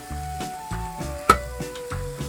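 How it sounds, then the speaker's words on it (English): Food sizzling in a pan over heat at a campsite, a continuous soft frying hiss with a few louder crackles and pops, close by and without talk. "Sizzle."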